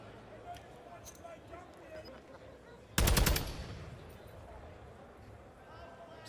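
Call of Duty match gunfire: a sudden loud rapid burst of automatic shots rings out midway and fades into a tail, with quieter game sounds before and after and commentary voices around it.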